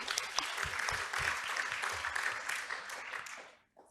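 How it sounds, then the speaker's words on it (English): An audience at a longevity forum business-innovation panel applauds the panelists with steady, dense clapping that carries for several seconds and then fades out quickly at the end. "If we can give them all a round of applause"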